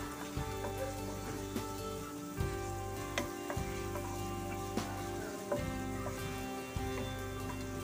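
Chopped garlic frying in a pan for a creamy carbonara, a soft continuous sizzle with occasional stirring scrapes and light clinks, fairly quiet and with no talking.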